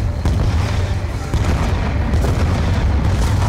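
Missile explosions in Call of Duty Black Ops II, 2012: a dense barrage of loud, close booms and thuds over constant low rumble, with faint voices underneath.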